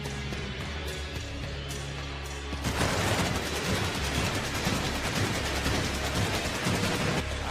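Fireworks and pyrotechnics at a steel cage wrestling entrance, which burst into a dense run of rapid crackling bangs partway through and continue under the crowd's roar.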